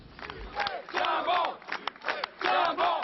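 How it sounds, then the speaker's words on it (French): A large crowd outside Bordeaux city hall cheering and shouting for Alain Juppé, surging waves of voices rising and falling in loud bursts, heard from a moderate distance. "Des acclamations dignes d'une victoire électorale, puis un bain de foule."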